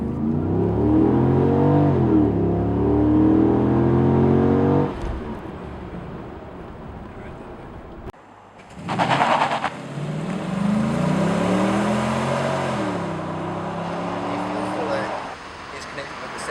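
A WM Holden Caprice accelerates hard from a standstill, its engine rising through the revs in strong sweeping pulls with a brief gap before a second surge, while someone talks over it inside the car.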